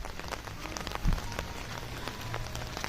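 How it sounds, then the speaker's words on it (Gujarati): Rain falls onto an umbrella on a Canadian street, a steady close patter of drops with occasional sharper taps. "મેં છત્રી રાખેલી છે, કદાચ છત્રીમાં વરસાદ પડે છે એનો અવાજ આવતો હોય"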